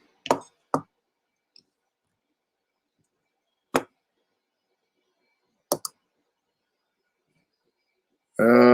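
A computer mouse is clicked and banged on a desk in sparse, sharp knocks, single and doubled, separated by seconds of silence, before a burst of other noise at the end.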